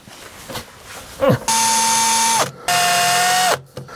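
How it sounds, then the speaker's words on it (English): A power drill drilling metal, fitting an LPG gas tank to a Sprinter campervan, whines in two bursts of about a second each, high and close, with brief pauses and a short vocal sound before. "I'm going to drill it and fit it"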